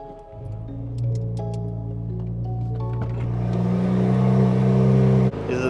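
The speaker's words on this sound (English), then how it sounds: "This is the last cold start with the stock turbos." A 2023 Nissan Z with stock turbos cold-starts, its engine catching and settling into a loud, steady high idle with a low droning rumble that swells slightly before cutting abruptly near the end.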